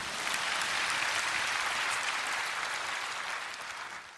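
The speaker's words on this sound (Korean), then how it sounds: "왜 박수 안 치세요?" Congregation at a church prayer service breaks into dense, sustained applause, a thick even roar of many hands that holds steady at a distance and then tapers slightly at the end, with no talking over it.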